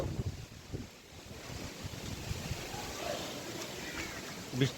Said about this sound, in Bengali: খুব জোরে জোরে হাওয়া